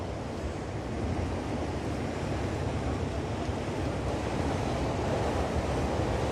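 Sea water washes and splashes steadily around Margate Pier, a broad continuous surf wash heard close with some wind rumble throughout and no clear individual waves standing out.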